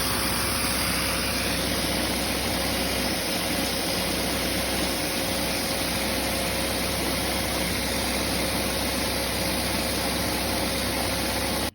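A Lego vacuum engine runs steadily throughout, a continuous mechanical hum with a constant tone and faint low rumbling, close and even with no talking.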